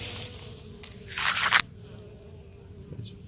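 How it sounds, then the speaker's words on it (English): Bees, bumblebees and honeybees, buzz among the flowers of an unmowed yard, a faint droning hum with one louder close pass near the middle, no voices. "there's just bees all over it. If you just walk through here, you can hear them"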